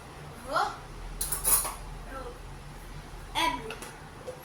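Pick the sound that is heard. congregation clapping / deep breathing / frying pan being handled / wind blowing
frying pan being handled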